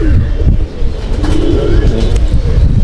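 Several pigeons coo inside a loft, low burbling calls rising and falling in steady overlapping waves, near and loud, with faint chirps and low background rumble.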